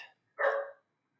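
A single sharp dog bark, close and moderately loud, preceded by a brief faint sound and followed by silence.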